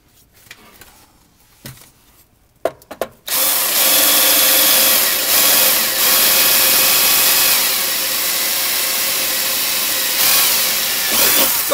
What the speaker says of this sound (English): Go about medium speed with the drill bit.